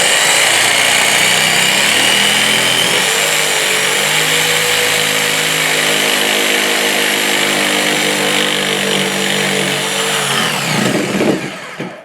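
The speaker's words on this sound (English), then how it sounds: "you can just take a jigsaw and kind of lay it like this and start it in" A jigsaw plunge-cutting into a board, a loud, continuous buzzing whine held close for the whole stretch with slight changes in pitch as it bites, then winding down and stopping at the end.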